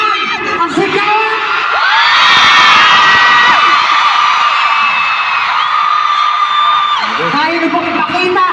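A big concert crowd at a world tour show in Manila screams and cheers loudly and continuously, shrill voices rising and holding together in a sustained roar from start to finish.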